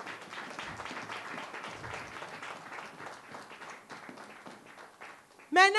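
A congregation at a church service applauds with sustained, dense clapping that stays steady throughout, then a voice cuts in loudly at the very end.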